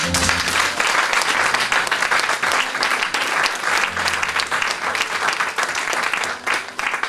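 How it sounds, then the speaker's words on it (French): Congregation applauding to acclaim the Lord in a church service, loud dense clapping from many hands sustained without a break, close and filling the room, with a faint low hum underneath. "Est-ce qu'on peut acclamer le Seigneur?"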